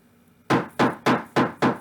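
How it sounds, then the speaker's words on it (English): Five sharp, evenly spaced hammer blows ring out close and loud, each a crisp knock about a quarter second apart. "I'm hammering with a hammer."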